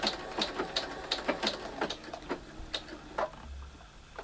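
A sewing machine sews slowly along the edge of a machine applique piece, producing spaced, quiet ticking stitches in an uneven rhythm with brief pauses.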